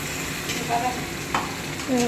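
Marinated masala chicken frying in a pan while being stirred: a steady close sizzle with occasional scraping stir strokes, under a background hum.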